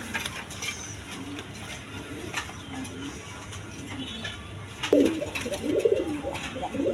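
A white field pigeon, an energetic male, coos in low repeated calls near the end of the clip against a background of rustling and faint ambient noise.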